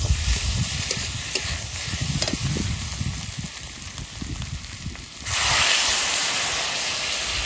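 Young jackfruit stirring and hissing in a hot pan, then a loud sustained sizzle and steamy hiss when water is poured in, close and steady to the end.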